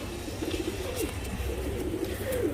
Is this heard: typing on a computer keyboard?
no